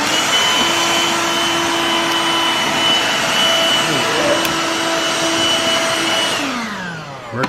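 A Black & Decker Dustbuster cordless handheld vacuum (Magic Blue, HHVI325JR22) whines loudly and steadily at close range, then spins down as it is switched off at the end.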